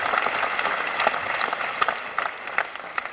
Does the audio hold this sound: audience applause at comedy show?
yes